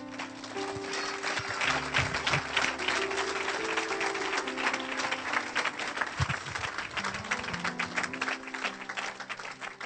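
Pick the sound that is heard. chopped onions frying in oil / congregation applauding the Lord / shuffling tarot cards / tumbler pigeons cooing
congregation applauding the Lord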